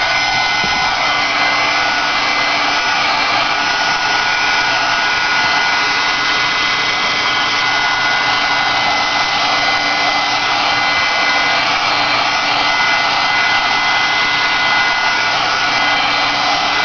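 A heat tool blows steadily at close range to dry glaze on a stamped botanical memory box. Its loud, unbroken whooshing drone stays constant throughout, with no talk.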